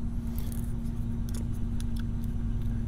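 Faint, sparse metallic clicks sound while an Illinois Chicago Duo mortise lock is picked, set against a steady low hum, with no talking.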